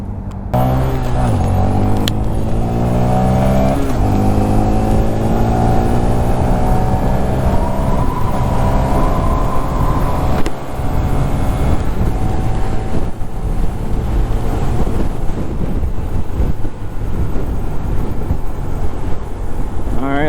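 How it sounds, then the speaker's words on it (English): Steady roar of nearby traffic heard from a cyclist's position in a road filter lane, cars passing close with rising and falling engine and tyre noise over constant wind buffeting, no voices. "Kind of intimidating to be next to all these cars."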